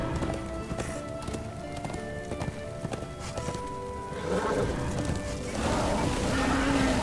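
A horse gallops in Darksiders II, its hooves making a steady rapid clip-clop over game music and ambient wind, with a brief whinny, moderately loud and continuous, and no talk.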